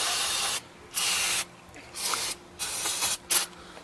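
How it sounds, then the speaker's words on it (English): Brake cleaner sprayed onto the rear brakes of a 2003 Toyota Camry during a pad replacement, heard as four close, loud hissing bursts, each lasting about half a second to a second, separated by short pauses. "We'll take some brake cleaner."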